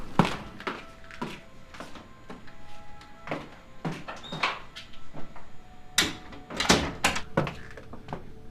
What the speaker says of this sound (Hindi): दरवाजा क्यों नहीं खुल रहा है?